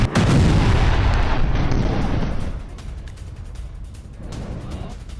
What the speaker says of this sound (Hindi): बैरूत में हर अहम ठिकानों पर बमबारी हो रही है।